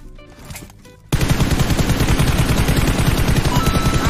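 Rapid automatic gunfire in a shooting video game bursts in suddenly after a quiet second and keeps rattling loudly in a dense, continuous stream.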